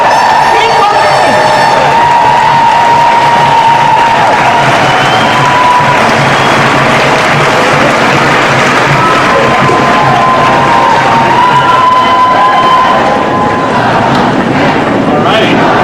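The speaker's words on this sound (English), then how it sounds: "One more round of applause for Congresswoman Schawkowksy." A large rally crowd at a Chicago tax march applauds and cheers steadily, with dense clapping, whoops and shouts filling the whole stretch at a loud, unbroken level.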